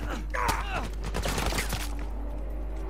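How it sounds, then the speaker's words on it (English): Rapid bursts of video game gunfire crackle through a chaotic moment, with overlapping voices and groans mixed in during the first two seconds. "I'm being shot at."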